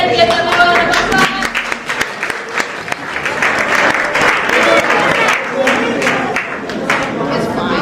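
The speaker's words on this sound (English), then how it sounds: "Give them a round of applause." Audience applause and cheering at a kids' robot camp competition, dense and sustained clapping throughout with voices mixed in the crowd.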